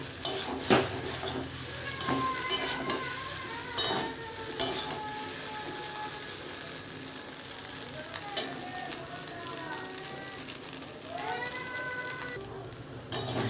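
Pasta stirred and frying in a pan, with a steady sizzle under repeated scraping and clinks of a utensil against the cookware, close and moderately loud, with occasional brief voice-like sounds.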